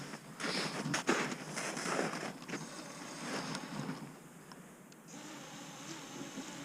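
An armed 6S-powered drone idles nearby, its motors giving off a steady, rushing whir with a faint high whine that thins out partway through, with no talk.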